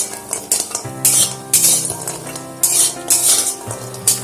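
Bori lentil dumplings fried in a pan, heard as loud, close scraping and clattering of a spatula against cookware in uneven bursts over a low sizzle.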